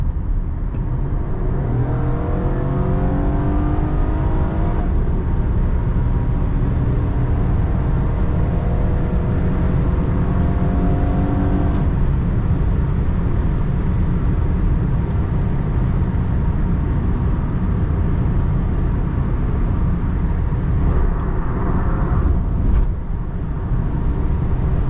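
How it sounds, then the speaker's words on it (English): A 2007 Honda Accord Coupe EX-L V6 accelerates hard from the driver's seat, its engine rising in pitch through the gears with clear shifts, and a loud steady road rumble runs underneath. "up next you're going to see a little POV acceleration"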